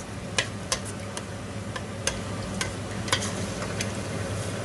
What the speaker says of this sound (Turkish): Karıştırıyoruz kavrulması için.